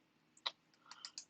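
A few separate key clicks on a computer keyboard while a search term is typed, quiet and close, with short gaps between presses and no talking.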